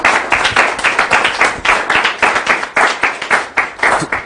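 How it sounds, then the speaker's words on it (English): Members of a morning fellowship congregation clap loudly and rhythmically in unison, sharp regular hand claps close by with a rapid, even pulse throughout. "Let's give the Lord a round of applause."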